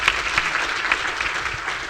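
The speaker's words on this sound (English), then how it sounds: "Give Craig a round of applause." Steady audience applause at a healthcare panel discussion, a dense wash of many hands clapping together at moderate loudness, sustained evenly with a few sharper claps standing out.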